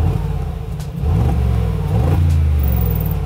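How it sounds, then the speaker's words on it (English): Mercedes-AMG G63 with a 4-litre bi-turbo V8 and side-exit exhausts, heard from inside with a window open, warming up in comfort mode: a loud, steady low rumble that swells into two rising revs. "So the exhaust pipes are on the side, which means when you open the window, you can actually hear it really well."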